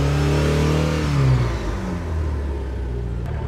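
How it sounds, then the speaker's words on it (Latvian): A boat's inboard engine revs loudly during warm-up, a steady close rumble that rises in pitch, then settles into a rougher, noisier idle with no voices. "Nu, lūk, tagad uzsildījām motoru."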